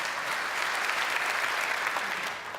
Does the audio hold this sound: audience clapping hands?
yes